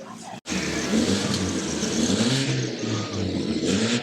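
Heavyweight stock cars out on an oval track, a steady roar of several engines revving and passing at middle distance, with a commentator's voice over the noise.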